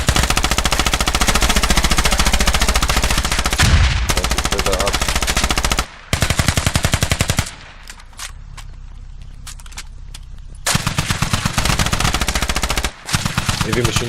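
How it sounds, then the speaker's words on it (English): Heavy machine gun fire in a close-quarters battle on stairs in the video game Al Basrah, loud sustained rapid bursts near the listener, broken by a few brief pauses and a quieter stretch before the firing resumes. "Heavy machine gun dealing heavy damage down on the stairs"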